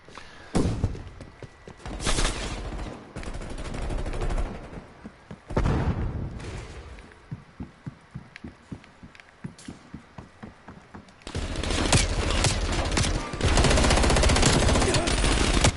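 Gunfire from the Call of Duty Cold War video game comes in loud bursts and rapid automatic strings, broken by a run of evenly spaced single shots, then dense heavy firing at the end.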